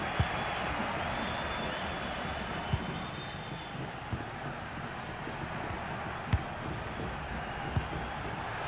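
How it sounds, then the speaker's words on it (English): A dense football stadium crowd in the game FC26 roars and murmurs continuously as a loud, steady wash, with a few faint sharp ball kicks or thuds poking through. "Well, just listen to this crowd."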